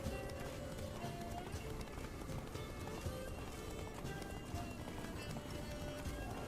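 Roach the horse galloping in The Witcher 3, rapid repeated hoofbeats in a steady running rhythm, close and continuous, with game ambience around them.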